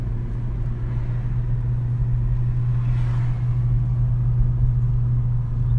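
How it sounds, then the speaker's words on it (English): Exhaust note of a 2017 Honda Civic Si coupe while driving, heard from inside as a steady, loud low drone and rumble that holds even throughout. "Do you guys hear the exhaust notes good or well?"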